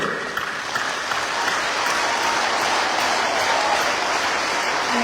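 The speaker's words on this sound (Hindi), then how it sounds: "तालियां मारिए जोर जोर से।" A large seminar crowd claps loudly and continuously, a dense wash of applause holding steady from start to finish with no pause or speech.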